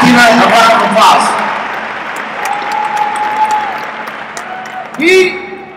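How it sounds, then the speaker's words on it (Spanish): An audience at a business gathering in the Dominican Republic claps along through the clip, a soft bed of applause running beneath a voice talking and a few sung or held tones. "And give a round of applause."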